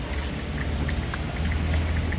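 Steady rain falls outdoors in Sokcho, a close, continuous hiss with scattered drop patter over a low background rumble, no voices.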